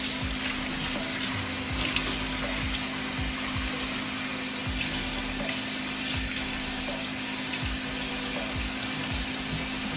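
Steady running water from a tap during hair washing, a constant hiss with a low hum underneath, close and unbroken.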